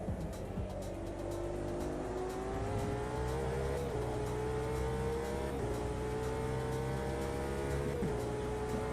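An Aston Martin Valkyrie race car in Automobilista 2 holds a loud, steady high-pitched engine drone from start to finish, its pitch climbing and dipping through gear changes, with no talking.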